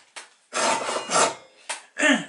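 A Japanese pull saw cuts through wood in rasping strokes, a few short and several long, close and loud with no talk.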